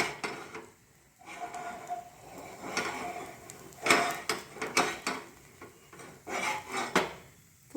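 A small pan set up on the stove for tempering oil for healthy dosa, with scattered metallic clinks, scrapes and knocks of cookware close by, irregular and moderately loud, with no speech.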